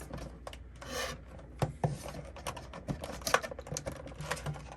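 Scissors rasp and snip through thin plastic and rubber packaging bands holding a Power Craze Shift 24 RC truck, in a close, irregular run of scraping, rubbing cuts with a few sharper clicks, and no talking.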